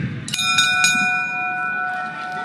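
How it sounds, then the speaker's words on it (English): A boxing ring bell struck three quick times in a London arena, loud metallic clangs with a long ringing tail under crowd noise. "And at the sound of the bell, your third man in the ring from South Africa, referee Dion Duarte."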